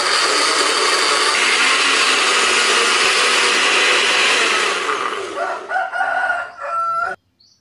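A food chopper grinds coriander with a little water, a steady loud whirring that runs for about five seconds, then stutters in short bursts and stops abruptly.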